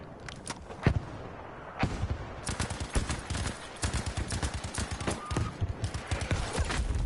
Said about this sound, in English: Did your artillery strike just kill me?